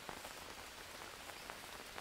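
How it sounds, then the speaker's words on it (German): Steady rain falls in the jungle survival game Green Hell, a continuous soft hiss of drops pattering on surfaces with faint scattered taps, fairly quiet and even throughout with no voices. "Ne, hier regnet es aber doch."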